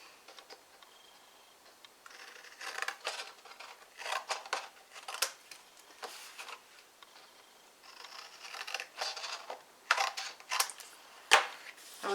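Scissors snip off the corners of paper for a small brag book, a quiet run of crisp close cuts in irregular bursts with no talk.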